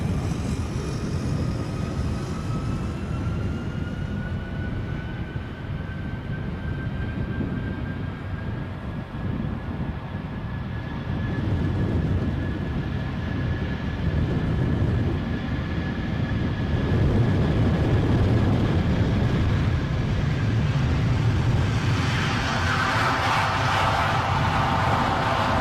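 A Virgin Atlantic airliner on final approach into Edinburgh Airport gives a steady, broad engine roar with a faint rising whine. The roar holds for the whole stretch, swelling slightly louder toward the end, with no talk over it.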